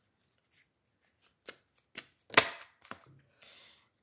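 Tarot cards are shuffled by hand and one is drawn, giving a handful of short, soft papery flicks and slaps with pauses between them, quiet and close, with no talking.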